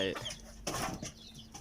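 Fighting cocks cluck close by, a few short, sharp clucks breaking over a rough, noisy background.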